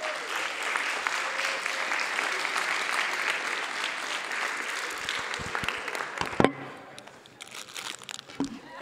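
An indoor summit audience applauds the winning team of a quiz game with sustained clapping that fades out near the end, followed by some faint rustling and handling noises.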